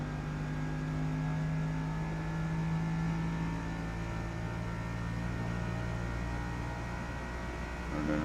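A Bugatti Veyron in the Forza Motorsport racing game accelerates on the Le Mans circuit, its engine droning in steady rising tones that shift upward near the end, with no talk over it.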